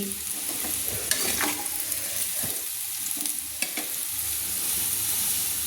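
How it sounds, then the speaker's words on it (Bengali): Fried potatoes sizzle steadily in a wok for a green-pea ghugni, with a spoon scraping and clinking as pieces are lifted out; close, constant frying with no voices. "এবার আমি একটা চামচ দিয়ে কিন্তু আলুগুলো তুলে নিচ্ছি"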